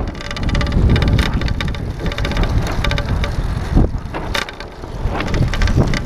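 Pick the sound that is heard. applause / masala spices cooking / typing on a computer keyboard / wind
wind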